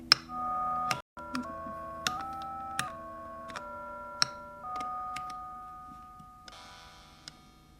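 A bright, bell-like synth crystal preset on a Hi-Chord plays a short sequence of clean stepped tones, each note struck and held briefly, with sparkling highs and a few clicks.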